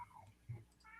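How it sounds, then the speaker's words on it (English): A cat gives a short, faint meow, brief and soft against a quiet room background. "There was a kitty meowing."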